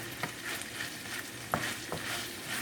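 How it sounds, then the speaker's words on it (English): A spoon stirs Jamaican-style ackee and saltfish in a non-stick frying pan. A steady sizzle carries several distinct scraping strokes over a few seconds, and no one speaks. "you still have to stir it because you don't want it to stick in the bottom of the pan"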